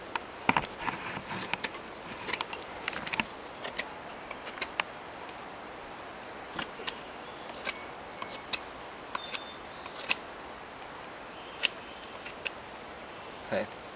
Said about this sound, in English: So I'm just going to sharpen this flat.